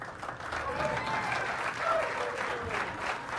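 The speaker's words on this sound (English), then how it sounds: "how about a nice round of applause for our 2 finalists?" Arena crowd applauding at a girls' state basketball finals, a dense sustained round of clapping and cheering with some voices mixed in.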